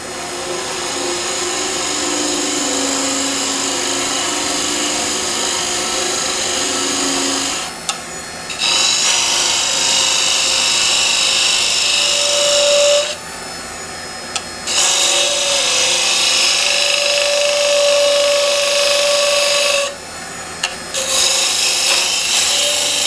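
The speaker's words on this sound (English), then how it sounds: "Again, I'll use my spindle gouge." A spindle gouge cutting wood on a lathe while shaping a hollow form gives a steady, close rasping scrape, broken by short pauses where the tool lifts off and then bites again.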